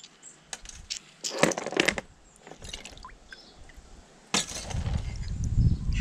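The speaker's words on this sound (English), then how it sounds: "Glass shards, of course, I keep these." Glass shards found while mudlarking are sorted by hand, giving scattered close clinks and taps in irregular bursts, followed by a rougher rustling, scraping stretch near the end.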